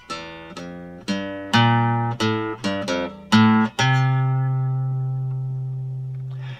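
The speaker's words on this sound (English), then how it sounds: "we've got a little guitar solo that sounds something like this" Electric guitar solo from a song, a short run of clean picked notes with a steady rhythm ending on a long sustained note that rings out and fades slowly, loud and alone.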